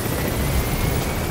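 A helicopter flies in Metal Gear Solid V: The Phantom Pain, a loud, steady, unbroken rotor-and-engine roar that fills the moment without any speech.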